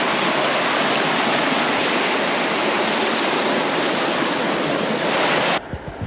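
A river at a crossing on the Kalalau Trail in Hawaii rushes in a loud, steady, broadband roar close by, with no talk, until the sound drops away abruptly near the end.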